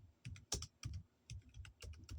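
Fingers type on a Chromebook keyboard, producing quick, crisp clicks in uneven clusters. The sound is close and quiet, with short gaps between bursts of keystrokes.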